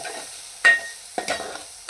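Spoon scrapes and stirs through a pan of sizzling Malvani spice paste frying in oil, with a few separate bursts of stirring between quieter stretches of soft frying hiss.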